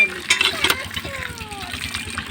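Running water splashes over dates as they are washed in a village setting, a close gushing pour heard beneath a voice and tonal chatter.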